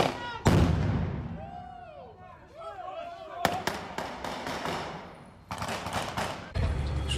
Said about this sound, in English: although the sound of artillery is heard here too